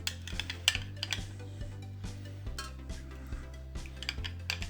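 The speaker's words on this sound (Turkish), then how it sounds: "Önce maya için buradan biraz süt alıp mayayla karıştırıyorum" Spoon clinking and scraping against a bowl while milk is stirred with yogurt starter, a run of close, light metallic taps and clinks over a low steady hum, with no talking.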